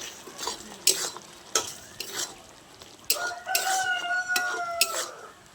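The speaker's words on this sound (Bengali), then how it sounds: "গরম মশলার গুঁড়োটা দিয়ে একটু নেড়ে চেড়ে নিচ্ছি" Pointed gourd curry stirred with garam masala powder gives spoon scrapes and knocks over a low sizzle, while a rooster crows in the background partway through.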